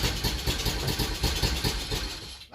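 A 50cc scooter engine being revived runs at a steady idle, its close, buzzy putter holding an even rhythm before cutting off abruptly at the end.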